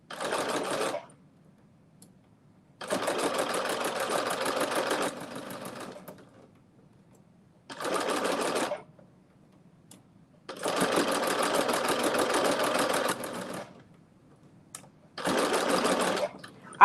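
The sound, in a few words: sewing machine with ruffler foot sewing ruffle pants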